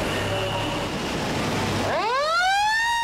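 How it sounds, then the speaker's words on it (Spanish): A loud fire station siren starts up abruptly, its wail climbing sharply in pitch over a background rumble and holding a rising howl. "La sirena rompe el silencio."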